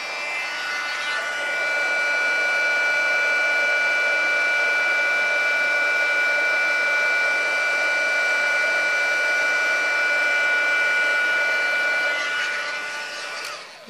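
A heat gun blows steadily for about twelve seconds while stamped card stock for a gift box is heat-embossed, a loud close whooshing hiss with a faint whine that starts and stops abruptly.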